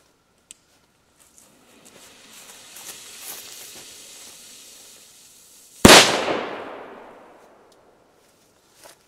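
Weko cube firecracker hisses faintly, then bursts in a single loud, close bang that decays over about a second, set against quiet outdoor background.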